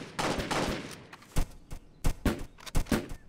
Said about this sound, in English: it makes like a different sound when the pistol shoots it